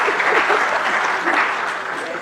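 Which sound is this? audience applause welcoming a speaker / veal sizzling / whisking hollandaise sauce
audience applause welcoming a speaker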